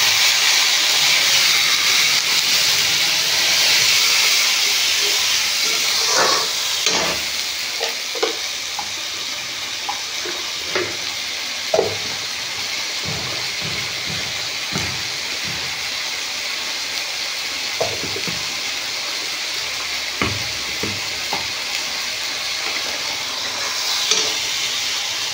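Ginger, garlic and cumin paste with turmeric and chili powder bubbling in a pan after a splash of water, giving a steady broad sizzling hiss with scattered soft stirring clicks and scrapes throughout, no voices.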